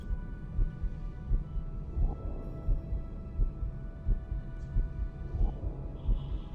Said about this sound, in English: they have a heartbeat, like, effect in the background